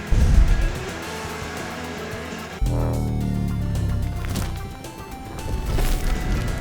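Mario Kart kart slamming into another racer on the track: a short sharp crash impact about two and a half seconds in, set against continuous engine whine and game music.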